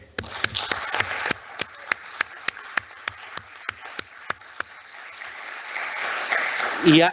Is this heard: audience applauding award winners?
yes